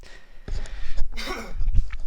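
A man coughs a few times in short, close bursts, with brief breaths and a pause between them.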